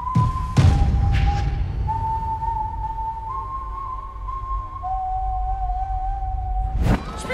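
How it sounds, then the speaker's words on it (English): A menacing, eerie whistle from the animated Puss in Boots film, a long wavering tone sliding between pitches over low rumbling score, with sharp hits at the start and end. "Oh, I don't like the whistle."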